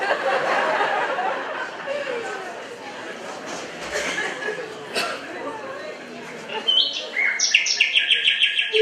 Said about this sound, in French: les oiseaux là, ils sont en train de nous critiquer. Attends, ils parlent.